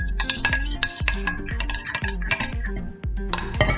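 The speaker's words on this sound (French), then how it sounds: "Donc bien mélanger pour que le miel se mélange bien à la crème fraîche" A spoon stirs honey into crème fraîche in a bowl, giving quick, repeated metallic clinks and scrapes against the dish, close and fairly loud with no voices.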